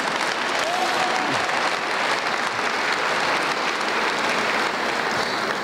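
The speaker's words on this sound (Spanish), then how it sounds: "Gracias por sus aplausos." Loud, steady audience applause at an Alcoholics Anonymous event in Mexico, dense continuous clapping filling the whole stretch with a few voices mixed in.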